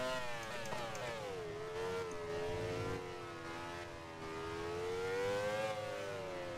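A Formula One car engine in the racing game Grand Prix 4 whines in rising and falling pitch sweeps as the car accelerates and shifts, heard fairly quietly and continuously without talk.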